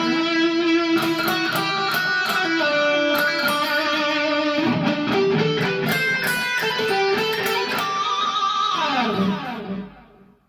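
Overdriven electric guitar plays the first part of a song's solo, with a busy run of sustained, bent and vibrato notes held at a steady loud level before fading at the end. Nobody speaks.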